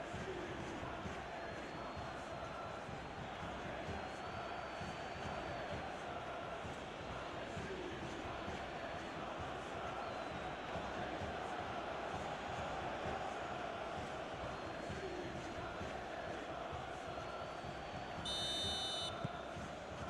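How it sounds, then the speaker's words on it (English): Steady roar of a football stadium crowd at an Olympiacos vs PAOK Greek Super League match after a goal, a dense continuous wash of voices throughout, with a short whistle-like tone near the end. "Now the crowd are demanding that they just finish this off."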